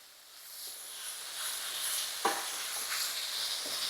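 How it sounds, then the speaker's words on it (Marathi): Mixed vegetables with curry leaves sautéing in hot oil over high heat for rava appe, a steady close sizzle with occasional stirring scrapes, no talking. "गॅस आपल्याला फास्ट करून दोन ते तीन मिनिटं या भाज्या फक्त आपल्याला परतवून घ्यायच्यात"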